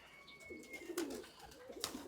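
Purebred pigeons give soft, low coos, two or three rolling calls up close, with a faint high whistle in the background.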